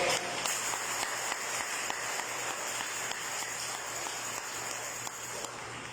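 Steady applause from a congregation at a children's Sunday Mass, continuous and fairly even throughout, sounding somewhat distant and muffled.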